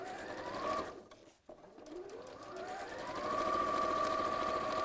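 A sewing machine stitches a zip panel onto a bag, its steady motor whir running continuously with a brief pause partway through before resuming loud and even.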